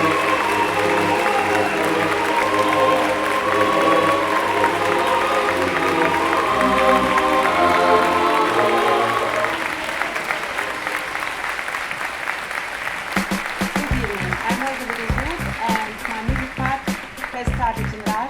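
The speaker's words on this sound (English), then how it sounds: "please give a huge round of applause" Applause at a music awards gala, heard first beneath a sustained musical passage and then continuing alone as a strong, dense round of clapping that carries on to the end.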